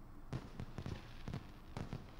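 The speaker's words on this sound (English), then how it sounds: "It's fireworks!" Fireworks in the video game Danganronpa 2: Goodbye Despair burst in a string of dull, booming pops, about six or seven thumps spaced unevenly over a muffled background, fairly soft and distant.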